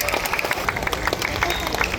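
Applause rises from an audience at a Davao City gathering honoring deputy mayors and tribal leaders, steady clapping throughout a short loud burst with some crowd noise beneath.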